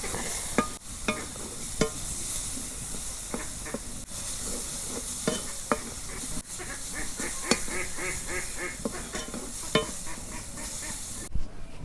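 Leafy greens frying in hot oil with green chillies and onion, a dense continuous sizzle broken by frequent sharp stirring scrapes and taps, up close with no voices.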